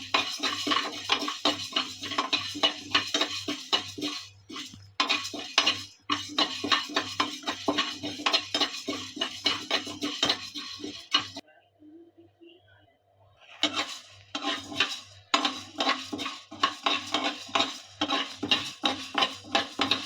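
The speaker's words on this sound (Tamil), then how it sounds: "உளுந்தம்பருப்பு கொஞ்சம் நல்லாவே ஃப்ரை பண்ணி எடுத்துக்கோங்க" Urad dal fried in a pan while a spoon scrapes and stirs it in quick, rhythmic metallic strokes over a light sizzle, close and busy, with a brief pause midway.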